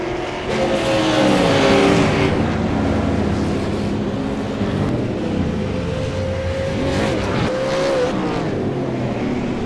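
A V8 Supercar in a racing game at Montreal, the engine note climbing and dropping as it shifts up through the gears, loud and continuous.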